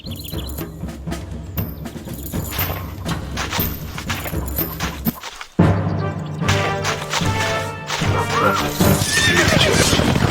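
Video game horses whinny and neigh over a dense, clattering layer of hooves and battle noise, loud and continuous, with a brief drop in the middle before the din returns.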